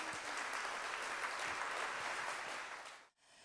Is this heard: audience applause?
yes